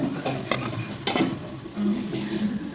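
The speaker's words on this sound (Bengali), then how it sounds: "আবারও ভালো করে নেড়ে চেড়ে নিচ্ছি।" Spatula stirring fried pointed gourd through a ground spice paste in a pan for a fish curry, with scraping clatter, soft sizzle and a few sharper knocks against the metal, steady and close.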